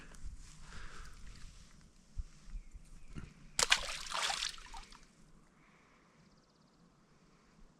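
A smallmouth bass is let go into a small creek. Quiet trickling water and light sloshing are heard, then a sharp splash and a burst of splattering as it goes back in, fading to faint trickling.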